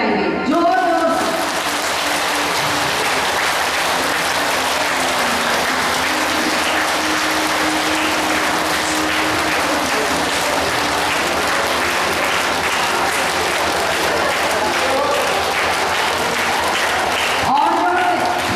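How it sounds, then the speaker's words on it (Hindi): A group of women at a girls' camp in Jalore, Rajasthan claps loudly with both hands, sustained dense applause filling the room for most of the span, with voices faintly under it and a brief start and stop at the edges. "अब दोनों हाथ से ताली बजाएंगे जोर जोर से।"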